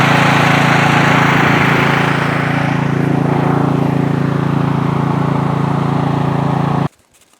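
A snow blower engine at a winter cabin runs loud and close with a steady droning hum, then cuts off abruptly near the end and falls to silence, with no talk.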